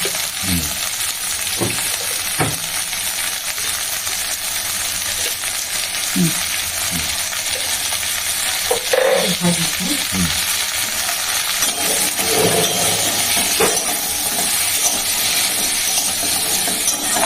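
Vegetables fry in a pan with salt and turmeric for a vegetarian thali, keeping up a steady close sizzle. Scattered metallic clinks and scrapes of stirring break in, and a voice is faint in the background.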